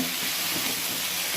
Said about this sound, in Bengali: এই যে মরিচ আর জিরাগুলো একটু ভাজেন হালকা করে